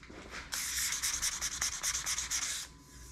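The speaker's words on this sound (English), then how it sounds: "Once you hit it with the sandpaper, you can't even tell the wax is there." Sandpaper rubbed by hand across an epoxy and wood shelf, a close, steady scratchy rasp in quick back-and-forth strokes for about two seconds, stopping abruptly with no talk.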